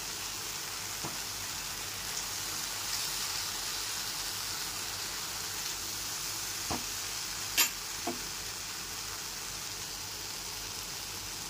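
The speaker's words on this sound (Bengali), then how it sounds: "আদা, মৌরি, কাঁচা লঙ্কা পেস্টের সাথে কিশমিশ, কাজু বাদাম আর টক দইয়ের পেস্টটা খুব ভালো করে কষিয়ে নিতে হবে।" A paste of ginger, fennel, green chili, raisins, cashews and sour yogurt frying in a pan for Kashmiri aloo dum, giving a steady, even sizzle throughout with a few faint stirring knocks, no voices.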